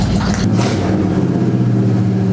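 A 1972 Chevy El Camino, found abandoned in a garage, runs steadily just after starting, its rough, loud engine idling with a deep, uneven rumble throughout.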